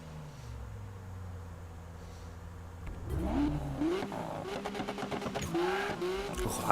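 Lamborghini Aventador V12, over 1000 horsepower, in the 2015 Need for Speed street racing game: a steady engine drone, then loud revving surges with rising pitch sweeps and crackling exhaust pops, close and continuous.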